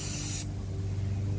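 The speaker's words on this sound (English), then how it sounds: "take a little bit of carb cleaner, carb spray, anything, shoot it right down into the carburetor" Carburetor cleaner aerosol sprayed into the carburetor of an old Murray lawnmower: a short, loud, close hissing burst that cuts off abruptly after a split second, leaving a low background hum.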